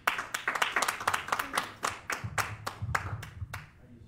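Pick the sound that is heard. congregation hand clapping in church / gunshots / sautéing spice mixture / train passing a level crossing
congregation hand clapping in church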